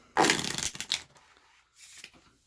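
Playing cards being shuffled, a quick riffling burst followed by a shorter second riffle, close and crisp.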